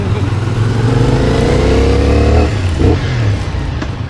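A 2026 CF Moto 450 SR motorcycle accelerates hard on a ride, its loud engine note climbing steadily through the revs before easing off near the end.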